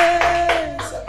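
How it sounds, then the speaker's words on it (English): A classroom gives a short round of applause, a few brief bursts of clapping heard close against a steady hum. "A round of applause for him."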